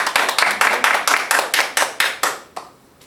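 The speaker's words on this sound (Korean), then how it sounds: "우리 하나님께 영광의 박수를 올려드리겠습니다" A church congregation claps in unison during a worship service: about a dozen sharp, evenly spaced claps in a steady rhythm, loud and close, ending with a final clap and a short trailing tap.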